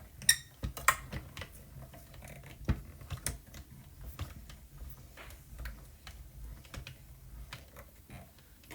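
A card is cranked through a manual die-cutting machine in a crafting space, giving a quiet, irregular series of soft clicks and ticks with occasional sharper knocks.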